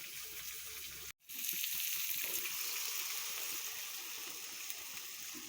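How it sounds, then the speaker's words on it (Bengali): Hot water poured into a curry in a pan while cooking rice with cauliflower: after a brief silence, a loud, steady rushing hiss of liquid hitting the hot pan keeps going to the end. "এবার গরম জলটা আমি ঢেলে দিব"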